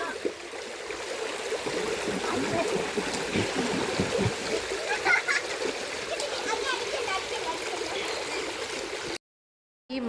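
Children splashing while bathing in a stream: continuous water splashes and gurgling run steadily, close by, mixed with children's voices and adult talk, before a brief cut to silence at the end.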